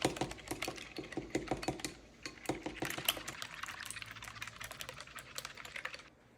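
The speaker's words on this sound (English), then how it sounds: "Whisk up them eggs." Eggs whisked in a bowl for a breakfast casserole, a quick run of light clicking taps up close and fairly quiet, slowing near the end.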